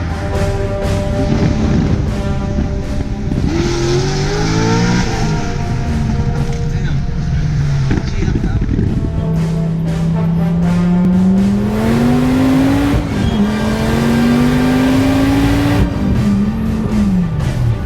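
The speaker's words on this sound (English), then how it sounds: "Alright, so we got this Heads Cam Z06 full exhaust." A Corvette Z06 with a heads-and-cam build, full exhaust and E85 fuel, making about 610 horsepower, revs and pulls away loudly and close, its engine note climbing, dropping and climbing again through repeated throttle blips.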